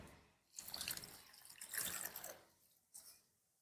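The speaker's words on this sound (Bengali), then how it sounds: "এই চালটা এবার ধুয়ে নেবো" Rice grains are washed by hand in water, making faint close sloshing and trickling swirls with a short pause and then a brief final splash, no voices.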